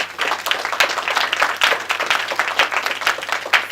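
Applause from an audience at a United Nations and NGO Committee on the Status of Women event in New York, a steady mix of hand claps running throughout without any voices.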